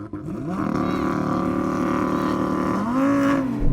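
Powerful engines of a Porsche 911 Turbo S, Ferrari 488 Pista and Lamborghini Huracán Performante roar and rev hard as they launch in a drag race, pitch climbing steadily through gears before a brief shift and renewed howl, loud and close.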